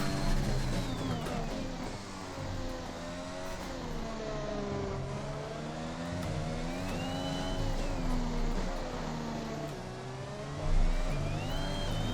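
Formula 1 race car engine in the F1 2021 video game at a Mexican race, a continuous high-pitched engine whine rising and falling with gear changes through corners, steady and fairly quiet.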